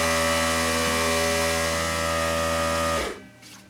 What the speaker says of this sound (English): Guess who forgot to shut off the air compressor?